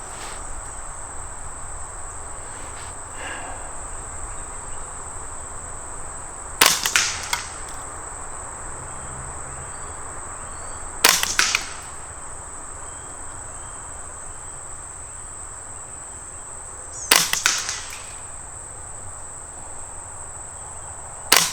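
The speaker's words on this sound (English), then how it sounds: "there's 5 shots downrange" Suppressed .22 LR rifle shots from CCI Quiet-22 semi-auto ammunition fired at a 50-yard target, sounding as sharp, quiet cracks spaced several seconds apart over steady insect and cricket chirping outdoors.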